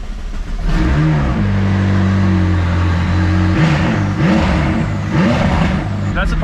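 A Porsche GT3 Touring sports car engine rumbles steadily with several sharp revs rising and falling, loud and close, with a voice briefly audible over it.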